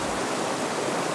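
River in the Sierra Nevada de Santa Marta, the land of the Arhuaco people: a dense, loud, steady rush of flowing water, continuous and broadband with no pauses.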